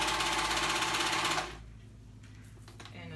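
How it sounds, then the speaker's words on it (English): A sewing machine stitches a lightly stretched band onto a child's dress, running loud and steady with a fast mechanical patter for about a second and a half. It then stops, leaving only faint handling noise. "And now I'm going to sew, stretching this band lightly."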